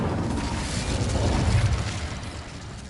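An Incendio fire spell goes off in the Hogwarts Legacy video game as a loud, rumbling whoosh of flame that swells, holds for about two seconds, then fades, with no voices.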